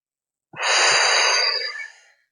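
One long, deep exhalation during a glute and hip stretch, a close, breathy whoosh lasting about a second and a half that swells quickly and then fades, preceded by a few faint soft sounds.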